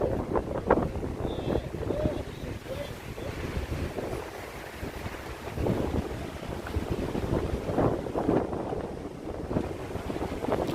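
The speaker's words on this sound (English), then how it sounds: "It's windy" Steady wind buffets the microphone in evening downtown Manhattan, New York City, with low rumbling gusts that rise and fall throughout, loud and continuous.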